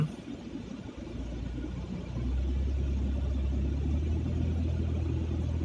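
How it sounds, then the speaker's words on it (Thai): A Toyota 2MZ engine with a drive charger idles with a low, steady rumble, then revs up around two seconds in to a louder, sustained, even drone that holds through the end. No voices. "แล้วเราลองเร่งเพิ่มขึ้นมา ผมเล่นขึ้นมาแล้ว"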